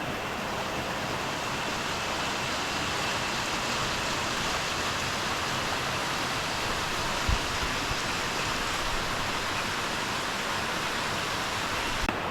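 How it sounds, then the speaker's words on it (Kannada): Heavy rain pouring down, a dense, loud, unbroken hiss of water filling the whole clip with no breaks, with a single faint knock partway through. "ಮಳೆ ಇಷ್ಟು ಜೋರಿದೆ ಗುರು ಈ ಕಡೆ"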